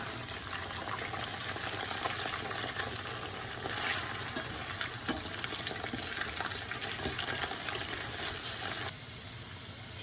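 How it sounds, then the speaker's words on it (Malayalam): Chicken pieces deep frying in hot oil, a continuous dense bubbling sizzle held at an even level for several seconds, close by with no speech. "ചിക്കൻ ഫ്രൈ ആയി വന്നിട്ടുണ്ട്."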